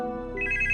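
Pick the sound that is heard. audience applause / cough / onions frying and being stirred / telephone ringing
telephone ringing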